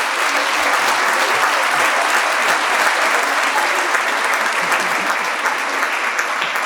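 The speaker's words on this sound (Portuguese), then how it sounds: "Uma salva de palmas para vocês." An audience at a Faz Acontecer Talks event gives a sustained, dense round of applause, loud and even from start to finish with no talking over it.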